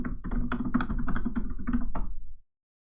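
Quick typing on a computer keyboard, a close burst of clacking keystrokes over a low steady hum, then stopping abruptly into silence.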